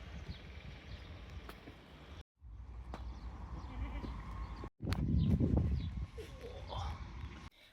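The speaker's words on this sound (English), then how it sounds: "Just hanging out with my goats." Goats at an animal sanctuary bleat several times nearby, fairly quiet and broken by brief gaps, with a louder cluster of bleats midway and soft outdoor background around them.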